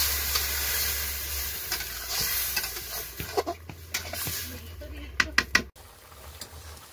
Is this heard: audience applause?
no